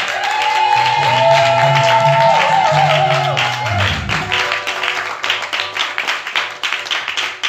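A church congregation at a service applauds and acclaims, with crowd cheering and voices over sustained tones at first, then rhythmic clapping that pulses steadily toward the end.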